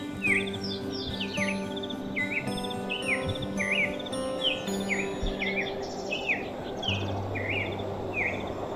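Small birds sing at sunrise around a campsite beside a Jeep, with repeated bright chirping phrases in a quick, regular series, moderately distant over a soft background hum.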